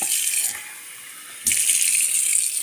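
Water runs from a tap into a pot, briefly easing off then gushing strongly again, a loud close splashing stream with no talking.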